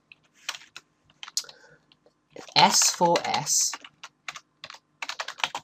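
Keys clatter on a computer keyboard in sparse bursts of clicks, interrupted by a brief stretch of speech, then quick rapid typing toward the end.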